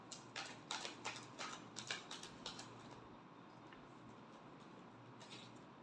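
Tarot cards being shuffled close by, a quick run of soft crisp riffling flicks that fades into a quiet steady room hiss.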